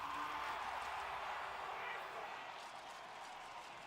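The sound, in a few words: esports arena crowd cheering surge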